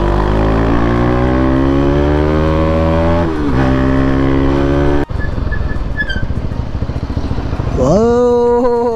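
A motorcycle is ridden fast along a road, its engine loud and close with steady revving, easing off midway with a sharp bump, then rising again as the engine climbs.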